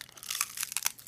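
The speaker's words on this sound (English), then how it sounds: "because there's a good crunch to it," Crisp Korean roasted seaweed snack crunched close up, a quick run of irregular crackly bites and crinkles over about a second, with no talking.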